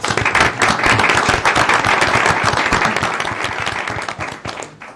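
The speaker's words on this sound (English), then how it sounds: "Let's give him a round of applause." Audience at a city council meeting claps loudly and steadily for several seconds, a dense close patter of many hands that tapers slightly at the end.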